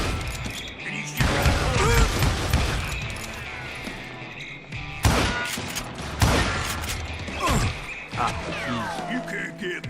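Gunfire in the Western shooter Call of Juarez: Gunslinger, loud bursts and sharp shots with crashing impacts at a busy, dense pace, mixed with game music and effects.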